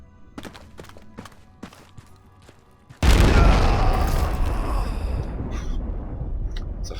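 Quiet, sparse clicks and taps give way to a single sudden loud boom of manually detonated TNT in the game Project Reality, rolling into a long, fading rumble of debris and echo.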